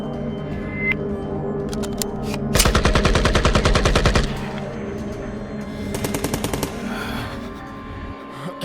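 Animated countryballs zombie apocalypse film: two bursts of rapid automatic gunfire at a quarantine zone, a long loud volley followed by a shorter one, over a tense background score.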